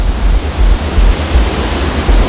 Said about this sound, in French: Il y a aussi le bassin là avec une petite chute d'eau.